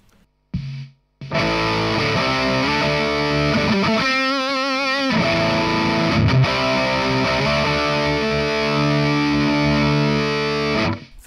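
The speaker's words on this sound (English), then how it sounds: "Let's turn on the distortion." Loud, heavily distorted electric guitar chords through Amplitube amp simulation into a real amp ring out continuously after a brief quiet start, with a wobbling phaser-modulated passage partway through.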